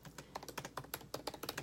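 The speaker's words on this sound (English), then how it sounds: "I can't type and talk at the same time" Rapid, uneven keystrokes on a computer keyboard, close and fairly quiet, clattering alone with no voices for under two seconds.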